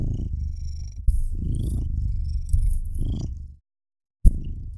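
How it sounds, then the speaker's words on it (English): A cat's loud purr, close and continuous in rhythmic bursts, pauses briefly near the end before resuming with a sharp sound. "You could probably hear him purr. He's got a loud kitty motor."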